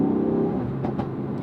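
A Ford Focus RS pulls hard under launch control, a steady engine drone with a rising whir holding loud and close throughout, with no voices over it.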